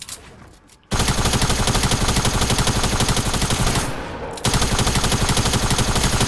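Tactical submachine gun fire in Fortnite Battle Royale on PS4 comes as loud, close, rapid bursts of shots. After a quiet opening there is a nearly continuous rattle, broken by a brief dip before the firing resumes.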